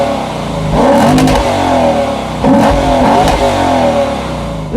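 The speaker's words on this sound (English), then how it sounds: "Now, speaking of the exhaust, it sounds pretty good." A Lexus GS F's exhaust revs up close and loud in two strong bursts, each throttle blip rising to a rasping roar and falling back to a steady idle in between.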